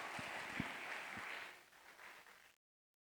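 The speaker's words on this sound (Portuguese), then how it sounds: "Dê uma salva de palmas ao Senhor." A church congregation applauding, a broad wash of clapping that fades after about two and a half seconds, with a few low thumps near the start.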